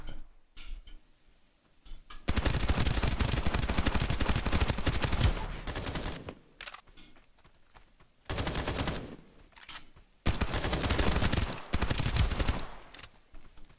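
Video game gunfire from Escape From Duckov comes in three long, loud bursts of rapid automatic shots, separated by quieter gaps with faint ticking.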